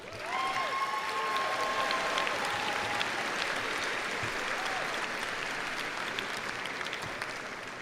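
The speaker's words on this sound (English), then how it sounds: "Let's give another warm round of applause to Brian and Keithana." Sustained applause from a large audience at a SUNY Oswego commencement ceremony for the College of Liberal Arts, Sciences and Engineering, a dense, steady roar of many hands clapping, with a few whistles and cheers rising above it, no speech.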